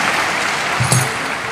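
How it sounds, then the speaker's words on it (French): Conference audience clapping to welcome a guest priest, a continuous broad wash of applause from a sizable room, steady and loud, with a brief murmur of a voice partway through. "applaudissez si vous voulez"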